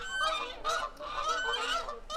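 Geese on a farm honk repeatedly in a noisy, overlapping chorus, moderately loud and slightly distant, with no talking.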